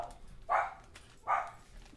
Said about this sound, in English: as you can tell from the barking, the borkage.